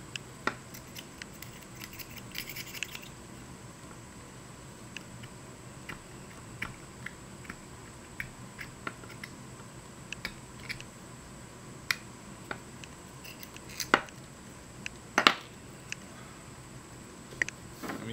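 A knife trims the body of a homemade yellow mouse topwater fishing lure, producing sparse, sharp little clicks and cuts scattered over a quiet background, with a brief cluster of louder snips near the end.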